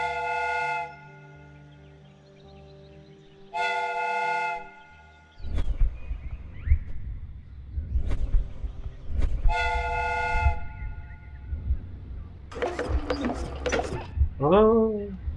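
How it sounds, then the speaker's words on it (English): Steam whistle on a replica train in the Sherlock Holmes: Crimes and Punishments video game, sounding in two short toots, then rumbling train noise with further whistle blasts and sharp clanks, fairly close and clear. "The steam whistle is ready to be used."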